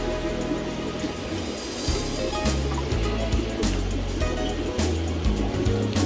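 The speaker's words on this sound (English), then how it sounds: "my stock tank is about half full now, so it's filling up nicely" Water fills a 100-gallon stock tank in a broad, steady rushing wash that holds level throughout, with a low rumbling undertone running beneath it.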